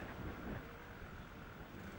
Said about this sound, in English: You can hear how strong the wind was on the camera here.